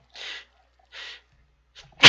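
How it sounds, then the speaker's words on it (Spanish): Two quiet breathy inhales precede a sharp, loud human sneeze that bursts out at the very end, close to the microphone and with nothing else around it. "Perdón, estornudé muy fuerte."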